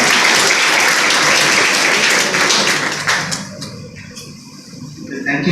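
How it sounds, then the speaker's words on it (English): Audience applause at an Engineer's Day event in an engineering college department, loud dense clapping filling the first three seconds before thinning out and fading. "A big round of applause to sir."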